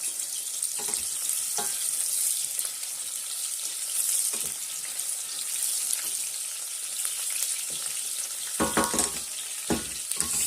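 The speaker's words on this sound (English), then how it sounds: "Stir it for some few minutes. You don't want the onion to burn." Onions fry with a steady, bright sizzle in a pot while a utensil stirs and scrapes through them in occasional clattering bursts, close and with no talk.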